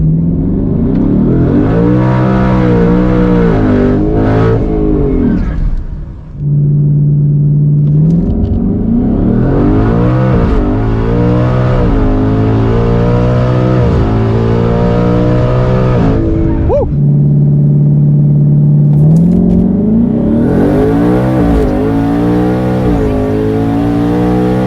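Twin-turbo 2020 Mustang GT running on 8 pounds of boost at a drag strip, loud engine climbing hard through several gear changes with brief dips between shifts, close and dominant throughout with no talking.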